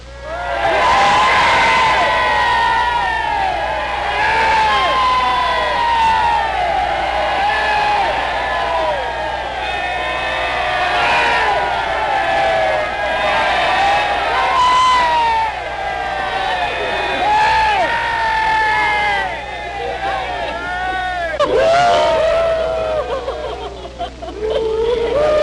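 Villagers give a rousing welcome cheer for the Queen, a sustained wash of crowd shouts, whoops and children's voices carrying on loud and continuous throughout.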